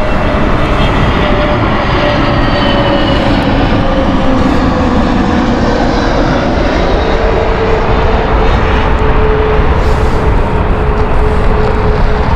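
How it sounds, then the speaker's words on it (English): A British Airways airliner flies near Heathrow Airport, its jet engines a loud, continuous roar that stays close and swells slightly as the aircraft passes, with no talk over it. "Now I can hear an aircraft. I believe it is British Airways."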